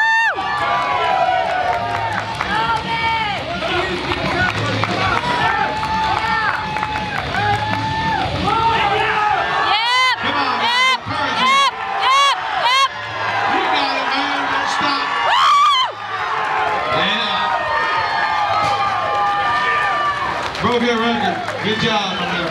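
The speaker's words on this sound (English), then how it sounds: "Come on, guys. Cheer him on." A crowd at a WABDL 2015 powerlifting meet cheers on a 12–13-year-old deadlifter during a record attempt, with loud sustained whoops, shouts and excited voices rising in waves, plus some clapping.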